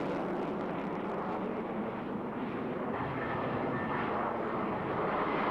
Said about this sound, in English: This superb fighter-bomber is the mainstay of NATO's frontline forces.